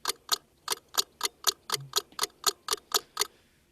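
An Apple Watch clicks in an even, clock-like ticking rhythm, about a dozen crisp, close ticks spaced roughly a quarter second apart, heard alone in a quiet room.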